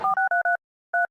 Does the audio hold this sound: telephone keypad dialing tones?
yes